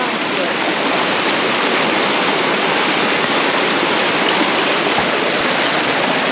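A creek flowing at a hiking trail crossing in Fishlake National Forest, a loud, steady rushing of water that fills the whole clip without a break, close by.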